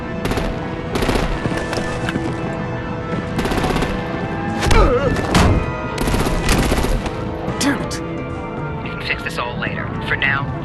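Rapid, loud gunfire and heavy weapon bursts rattle in a Batman video game battle, with dense automatic fire running throughout and voices speaking over the combat.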